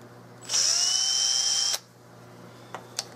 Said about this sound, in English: So you got to really hold this thing down well before you start in to countersink it.